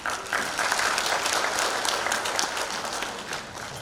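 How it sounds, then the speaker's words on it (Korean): Audience at a photography talk concert in Seongnam applauding a panelist, steady dense clapping from a crowd in a hall, fairly distant and even throughout. "여상현 패널님께 다시 한번 박수."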